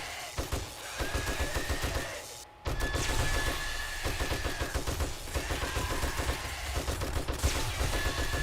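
Automatic gunfire in 7 Days to Die hammers away in dense, rapid bursts that run nearly the whole time, with one brief pause, loud and close.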